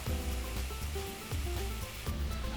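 Tomato with coriander powder, turmeric, garam masala and red chili powder sautés in a pan for a Quinoa Khichdi, giving a steady close sizzle under a tonal musical bed.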